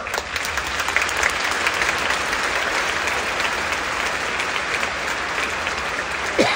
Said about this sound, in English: Get a bit of enormous applause.